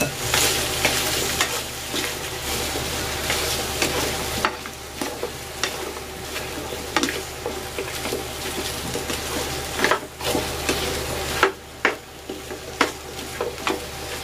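Pork ribs go into a hot pan and fry with a steady, close sizzle and crackle. Scraping stirs and clinks of utensils on the pan come through throughout, with no talking.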